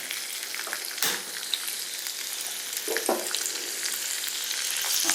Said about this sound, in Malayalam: ഇതിനകത്തോട്ട് നമുക്ക് നമ്മുടെ ഇഞ്ചിയും വെളുത്തുള്ളി ചെറുതായിട്ട് അരിഞ്ഞ് വെച്ചത് അതങ്ങോട്ട് ഇട്ട് കൊടുക്കാം.